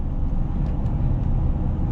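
2002 Chevrolet Silverado 2500HD, lifted, cruising at steady speed with a continuous low rumble of engine and road noise inside the cab.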